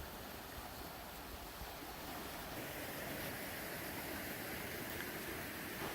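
A dense, steady rush of fast-running water from a flooded creek about 3.5 feet deep fills the clip, loud and constant, with no voices.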